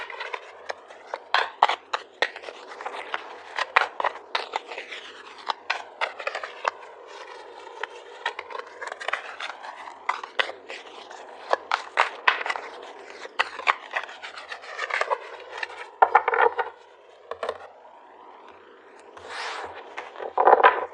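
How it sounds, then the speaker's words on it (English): Tarot cards are shuffled and handled close to the mic, producing dense papery riffles and soft rubbing slaps in quick irregular bursts, with a brief pause before a few final card snaps and a draw. "So let's pull some tarot cards to get some clarification."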